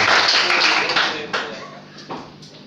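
Participants at a hip hop training workshop in Mopti clap for themselves, a burst of applause that tapers off quickly into a few scattered claps, with voices in the room.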